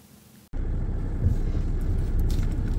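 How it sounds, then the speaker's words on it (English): A car pulls out of a driveway in the countryside, its engine and road rumble starting abruptly and continuing as a steady close interior drone, with no talking. "Just driving out of my driveway now"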